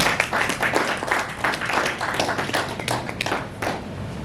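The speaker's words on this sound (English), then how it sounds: "A round of applause, please, the chair." An audience applauds the chair at an academic conference in Marrakech, Morocco, with dense, steady clapping sustained for several seconds at moderate volume.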